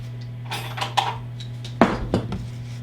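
A mixing bowl and utensils clatter on a kitchen counter while preparing a keto chocolate cream pie filling, several close clinks and knocks with a louder pair of clanks near the end over a steady hum.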